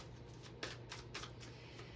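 Slippery tarot cards shuffled close up, quiet papery riffles and soft slaps repeating about every half second in an even rhythm, with no talking.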